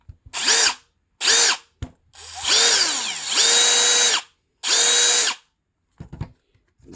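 A Milwaukee M12 Gen 3 cordless drill whines in several short bursts, each spinning up quickly, holding a high motor pitch and then stopping. It is close and loud, with brief pauses between runs and a few small clicks at the end.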